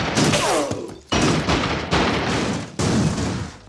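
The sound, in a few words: machine gun fire in animated story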